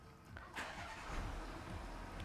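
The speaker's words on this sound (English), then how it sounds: "Really lovely V6 sound to the diesel engine" The 3.0 TDI V6 diesel engine of a 2016 Volkswagen Touareg cranks and catches, then settles into a low, steady idle rumble nearby; fairly quiet overall.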